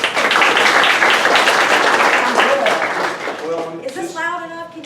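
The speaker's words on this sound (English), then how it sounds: "Give her a round of applause," An audience at a business community gathering claps loudly for a few seconds, then the clapping thins out as a voice begins speaking near the end.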